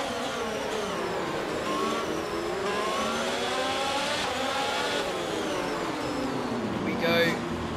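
F1 race cars wail around Monaco in the F1 22 video game, engines rising and falling in pitch as they pass, heard continuously beneath a commentator's voice.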